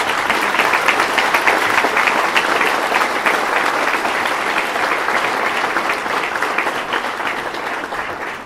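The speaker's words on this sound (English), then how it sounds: "Please give them a round of applause." Sustained applause from a live audience at a closing slam event, steady dense clapping that fills the whole stretch and tapers only slightly toward the end.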